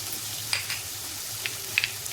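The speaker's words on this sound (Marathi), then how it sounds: "दोन चमचे आपण कांदा लसूण मसाला घेतलेला त्याला व्यवस्थित आपण परतून घेऊया" Onion frying in a pan with turmeric, red chili powder and onion-garlic masala, a soft continuous sizzle with a few sharp stirring clicks and scrapes.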